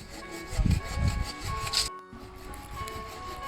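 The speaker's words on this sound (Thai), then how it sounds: "พี่ชายสอนน้องให้รู้จักใช้เลื่อย" A hand saw cuts through wood outdoors, giving rhythmic rasping back-and-forth strokes close by. A brief pause breaks the strokes, then fainter sawing continues.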